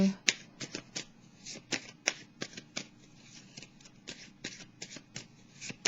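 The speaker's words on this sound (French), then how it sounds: "Est-ce que je devrais continuer de piger une carte, petite carte?" Tarot cards drawn and shuffled from a deck during a Pisces astro-tarot reading, a quick series of crisp card snaps and slides in an uneven rhythm, close and fairly loud with no talking.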